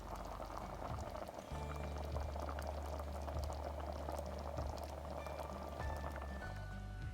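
A pot of saltfish stew peas with coconut milk bubbles steadily for a family reunion meal, a continuous close simmer with soft popping and gurgling, plus a low hum in the background and no talking.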